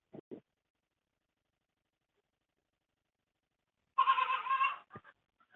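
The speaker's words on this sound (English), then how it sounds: "I hear a goat." A goat bleats once in a wavering, sustained cry lasting under a second, loud and close, after a stretch of near silence with a couple of brief knocks before it and a short sharp sound just after.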